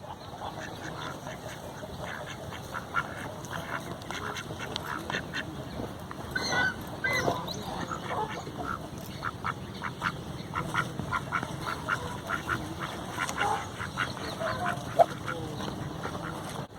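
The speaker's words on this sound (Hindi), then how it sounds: "ये डक की आवाज़ बहुत स्लो होती है, बहुत स्लो।" Pet ducks at a Gir cow farm quack softly in low, scattered calls over quiet outdoor background noise, with a few slightly louder bursts now and then.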